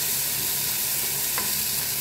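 Sautéed green peas and garbanzos sizzle loudly and continuously in a pan as they are stirred, with one brief scrape of the utensil against the pan.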